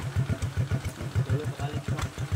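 A motorcycle engine idles close by with a steady, even low thumping pulse, a few faint clatters and a little background noise over it.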